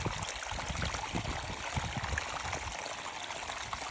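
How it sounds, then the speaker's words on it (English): Water rushes and trickles steadily over rocks nearby along an Appalachian Trail path running like a creek, a continuous bubbling flow with no voices. "And the trail is literally a creek."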